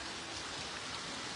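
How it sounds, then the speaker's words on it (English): Heavy rain pours down outdoors in a Montana town after a hailstorm, a dense, steady hiss of drops hitting surfaces that fills the whole stretch evenly and loudly, with no voices. "So now it's pretty much rain. It's not hail."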